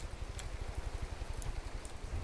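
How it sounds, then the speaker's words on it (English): Steady rain patter from the space-set video game From the Depths, a dense, even hiss of drops heard alone and fairly close throughout, with no talk. "I don't know why I hear rain sounds, because I'm in space."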